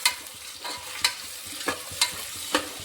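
Onions going into a pan for beetroot pulao, with a steady low frying hiss broken by several sharp stirring scrapes and clinks roughly every half second, close and fairly quiet.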